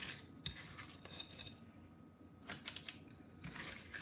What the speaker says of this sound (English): So we're scooping.